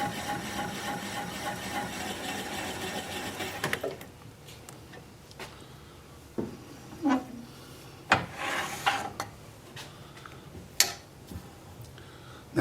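A lathe gouge cuts a fruitless mulberry wood bowl, a steady close scraping rasp at first, then the cutting stops and scattered knocks and light scrapes follow with the lathe running quietly underneath.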